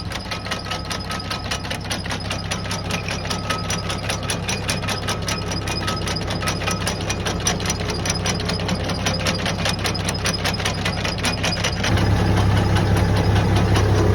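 A motorized shaker-type potato digger runs while harvesting potatoes, with a steady motor and rapid mechanical clatter, loud and close, growing a little louder near the end.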